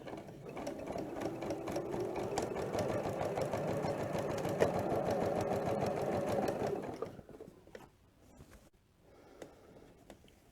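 A sewing machine runs steadily for about seven seconds, stitching down quilt binding with a close, rapid mechanical chatter, then stops, leaving a few quiet handling sounds.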